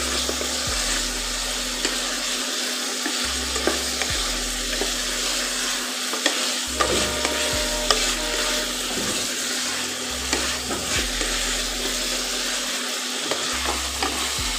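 Local chicken curry being stirred and fried in a pan, with a steady sizzle running throughout and repeated scraping stirs at a regular rhythm, close and clear, with no talking.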